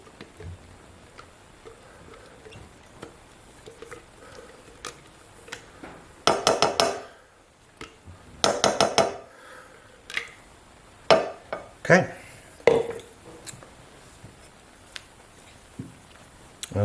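A spatula scraping blueberry bar mixture out of a dish, quiet scrapes followed by several sharp clattering bursts and taps of utensil against the dish, irregular and close.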